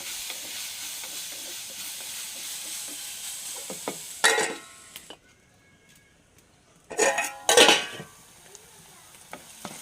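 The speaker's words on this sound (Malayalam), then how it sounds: "സവാള നല്ല വഴണ്ട് വരുന്നത്" Onions for a curry sauté in a pan, first a steady close sizzle that drops away to near silence, then short bursts of stirring and scraping as the frying resumes.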